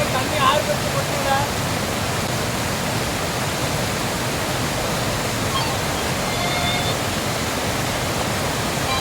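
Water roars down a waterfall on Kondarangi hill, a steady, loud, broadband rush that holds unbroken for the whole stretch.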